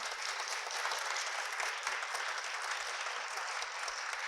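Steady applause from a sizable crowd for a panel at a school event, continuous clapping at an even level throughout with no voices standing out.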